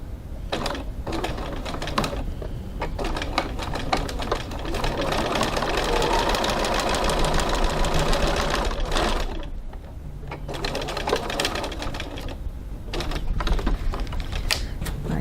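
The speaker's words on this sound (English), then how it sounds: "now we're just going to stitch that line we just drew" A sewing machine stitches a leather wallet along a marked line, running in steady fast bursts with a brief pause near the middle, close and loud with no talking.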